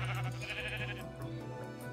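A sheep in the Minecraft video game gives a loud, wavering bleat over the first second, then the sound fades to a quieter tail with no speech.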